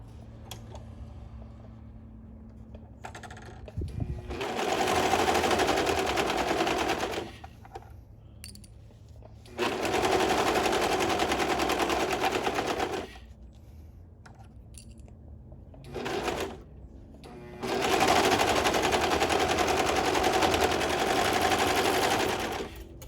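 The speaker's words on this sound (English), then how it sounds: "We are just going to serge along those two side seams and the crotch seam." A serger stitches the side seams and crotch seam of dance-set shorts in three loud, steady runs of about two to eight seconds each, with quiet pauses and a short burst between them.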